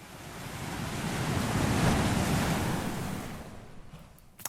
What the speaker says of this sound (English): have the sound of just the waves